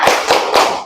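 A classroom group claps hands together in a quick rhythmic pattern, three close bursts of sharp claps within a second, loud and near with no talking.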